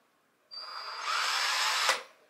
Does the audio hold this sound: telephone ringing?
no